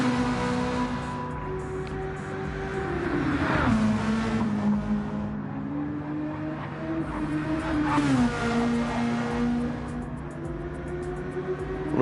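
Racing cars lap a track at night in a video game, their engines droning steadily with rising and falling pitch as they pass, loud and continuous throughout with no talk.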